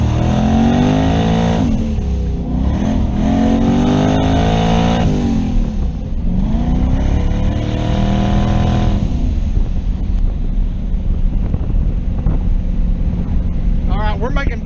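A turbocharged car engine, running hot, revs loud and close in repeated rising and falling sweeps as it builds boost, with wind buffeting the microphone.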